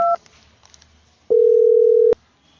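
A short two-tone beep, then a single sustained telephone tone lasting under a second, clear and close with quiet pauses between.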